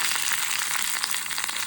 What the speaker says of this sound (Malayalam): കടുക് വറുത്ത് സാമ്പാറിലിട്ട് ഇട്ടു